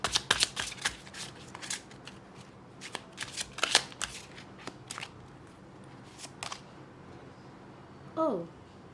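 Lenormand tarot cards are shuffled by hand in quick, crisp riffling bursts near the microphone, with a brief higher-pitched sound near the end and no speech over it.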